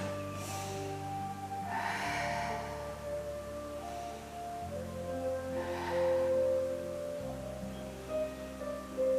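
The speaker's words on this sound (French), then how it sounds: "On inspire et on expire." Slow, deep breathing in and out during a Pilates exercise class, audible inhales and exhales repeating over sustained background music, no talking.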